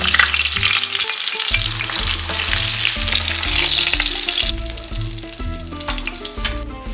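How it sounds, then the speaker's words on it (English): Chicken pieces shallow frying in oil in a pan over medium-low heat, a steady bright sizzle and crackle running throughout with low clatters beneath, fairly close and fairly loud, with no voices. "we're gonna shallow fry them in some oil"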